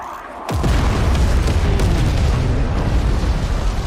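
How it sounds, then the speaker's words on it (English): A loud explosion in the Forts High Seas naval battle video game hits suddenly with a sharp crack. A heavy rumbling roar follows and keeps going for several seconds. "Oh, an explosion. That was pretty good."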